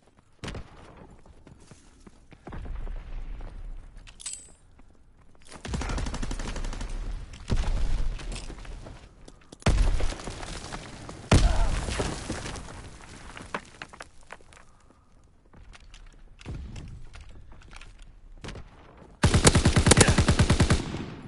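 Bursts of automatic gunfire in the shooter Call of Duty: WWII, loud rapid volleys broken by short lulls, a fresh heavy burst closing out the stretch.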